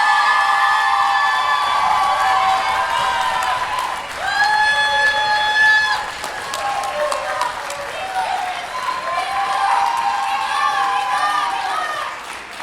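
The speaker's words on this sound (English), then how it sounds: "Can we give our seniors a round of applause?" Audience at a Stamford high school spring concert applauding and cheering for the graduating seniors, a sustained crowd sound of clapping mixed with whoops and voices lasting the whole stretch.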